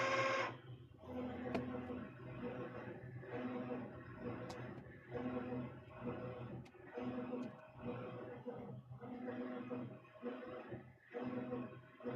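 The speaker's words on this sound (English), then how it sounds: "we have 3 printers here in the print studio, but I'm running 2 at the moment" Direct-to-garment printers printing shirts run with a repeating mechanical cycle, whirring passes and clicks recurring every couple of seconds at moderate volume, steady throughout.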